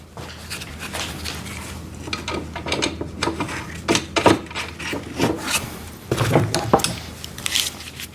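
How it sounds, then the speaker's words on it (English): A ratchet with a 17mm socket tightens wheel nuts on an Albott electric drain cleaner machine, giving repeated close clicking strokes in uneven bursts along with some rubbing and knocking of the metal, with no talking. "So using a ratchet and a 17mm wrench on the other side."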